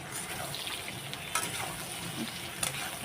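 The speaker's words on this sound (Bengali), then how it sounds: "নুন হলুদ দিয়ে সোয়াবিনগুলো দিয়ে দিয়েছি আর নুন হলুদ সব দিয়ে দিয়েছি এখন আমি ভেজে নেব" Soybean chunks with salt and turmeric fry in a pan, a steady close sizzle with occasional stirring scrapes and clicks, no talk.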